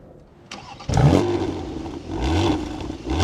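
A 2026 Porsche Panamera 4 engine starts with a sharp crank and catch, then settles into a loud, close rumbling idle with a brief rev swell.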